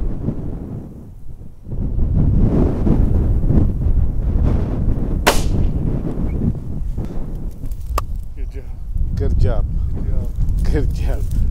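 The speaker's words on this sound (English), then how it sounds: "in a wind like this, I mean, this wind's probably pumping 20 to 30 miles an hour" Strong wind of about 20 to 30 miles an hour buffets an outdoor microphone on a mountain nyala hunt in Ethiopia, a steady loud low roar with gusts throughout, while people talk quietly under it.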